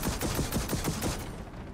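Rapid machine gun fire in Gears of War 4, a dense burst of evenly spaced shots rattling loudly for about a second and then cutting off.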